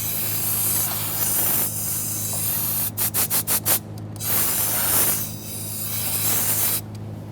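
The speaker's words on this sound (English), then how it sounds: "just blow it off with some compressed air." Compressed air blows debris off a fuel pressure regulator area on a 2000-2005 Ford Excursion engine, a close hissing spray in long bursts with a quick series of short puffs in the middle.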